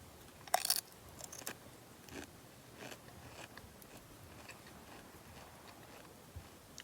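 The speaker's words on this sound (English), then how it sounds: "I'm going to have chili con carne and Doritos with some sour cream." Faint crunching bites of Doritos eaten with chili con carne and sour cream at a quiet forest campsite, one sharp crunch early and then scattered soft clicks and ticks.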